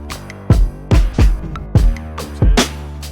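Punchy drum hits in a produced hip-hop style beat, five heavy booming kicks with snare-like transients roughly every half second over a sustained bass tone, loud and close with no voices.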